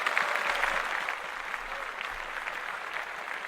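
Applause sound effect dropped in by a podcast host, a dense burst of clapping that runs steadily for a few seconds, slightly louder at the start and then holding level.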